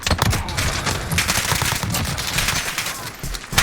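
Dense, continuous automatic gunfire from Call of Duty Warzone, with rapid overlapping shots and bursts filling the whole stretch at steady loud level and no talk over it.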